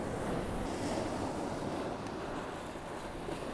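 Ocean waves wash onto a rocky shore under a clear sky, a continuous loud rushing surf mixed with wind buffeting the microphone, with no voices.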